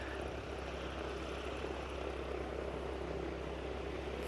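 Propeller aircraft engine droning steadily at a distance as a B-17 bomber flies on a downwind leg near a runway, a continuous low rumble with outdoor wind noise and no voices.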